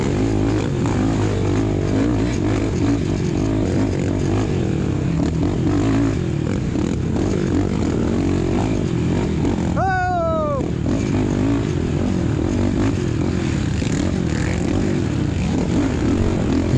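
Quad ATVs racing at Maniac Mountain in Buckhannon, West Virginia, making a steady, dense engine roar throughout, with a brief rising-and-falling whine of a passing machine midway.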